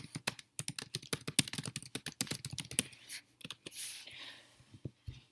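Fingers type quickly on a computer keyboard, a dense run of close, crisp key clicks in an irregular rhythm that thins out into a few scattered taps near the end, no voices.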